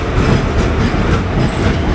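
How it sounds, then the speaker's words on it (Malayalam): Madurai–Coimbatore Express pulling into a station behind an aged, rust-streaked diesel locomotive, a loud close rumble of rolling wagons with faint rhythmic clatter of wheels over rail joints, steady and unbroken, no voices. "ട്രെയിൻ എത്തി."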